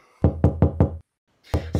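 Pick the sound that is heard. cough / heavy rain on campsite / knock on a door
knock on a door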